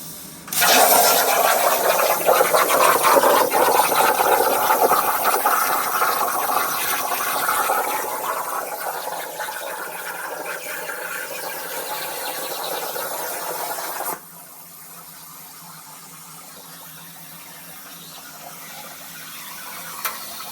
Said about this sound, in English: The Everlast Cnc Plasma does so well.